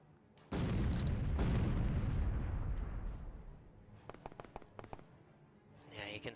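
A heavy shot fires in OpenXcom with the WH40k mod: one loud booming blast that rumbles and fades over a few seconds, followed by a scatter of sharp clicks and small pops and a brief rising tone at the end.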